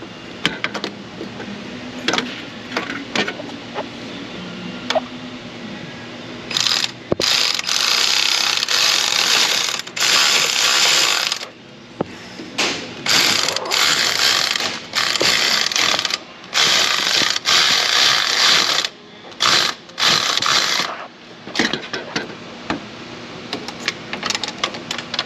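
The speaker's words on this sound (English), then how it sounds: "Let me sneak in with the ratchet again. See if I can't get those to run down some." A hand ratchet turns bolts on a Honda CR-V with a 2.4 engine, sounding as repeated bursts of rapid close clicking with short pauses between strokes.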